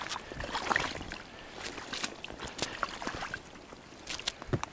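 A small boat pushing through reedy water on a duck hunt, soft continuous swishing and splashing with irregular louder sloshes, close by and fairly quiet, without voices.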